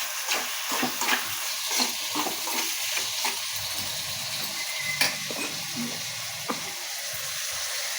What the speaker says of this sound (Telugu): ఉప్పు చేపలు వేయించాలి పెట్టే